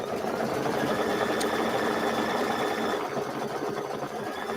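An embroidery machine stitches an applique for a hot cocoa mini quilt, giving a steady, continuous mechanical hum with a rapid stitching rattle at an even level throughout.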